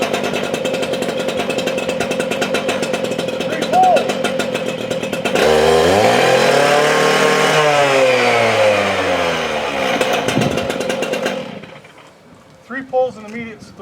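A chainsaw fires up after pull-cord starts and runs with a loud, rough idle, then revs up and back down in a rising and falling roar before cutting off. A voice speaks over the engine at close range.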